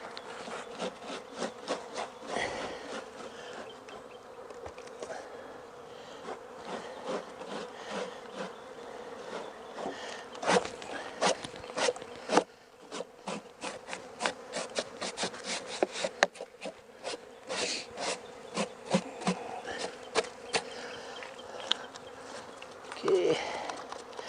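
Wooden beehive bottom board being scraped clean while honeybees buzz steadily nearby; irregular scraping and rubbing strokes run throughout, with sharper scrapes in bursts toward the middle and end.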